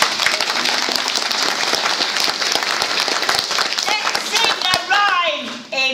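A pantomime audience at Oxton claps along, irregular clapping with children's voices and chatter mixed in, growing busier toward the end as talk and singing emerge.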